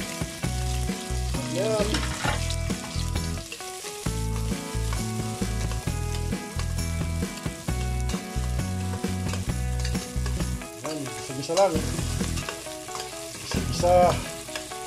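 Onions and chili sizzle steadily in a hot pan for chicken adobo, with stirring scrapes throughout, a loud continuous frying hiss, a few brief spoken words, and tonal background sound.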